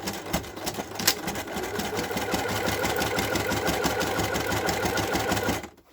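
A sewing machine running a straight stitch close to the fabric edge, a fast steady mechanical whirring and needle chatter heard up close, starting with a few uneven bursts before settling into a continuous run and then stopping abruptly.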